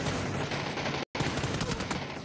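Rapid, dense bursts of automatic gunfire from a PUBG professional esports match, loud and continuous with a brief cut of silence midway.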